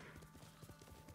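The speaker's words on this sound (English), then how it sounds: "You're a good horse." Quiet, close clip-clop of a horse's hooves in the samurai video game Ghost of Tsushima, a quick steady rhythm of soft thuds with no talk.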